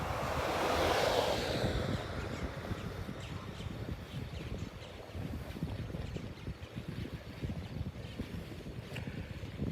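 Seawater rushes out along the shore in a broad, churning wash, loudest at the start and then settling into a steady surging roar mixed with wind buffeting the microphone.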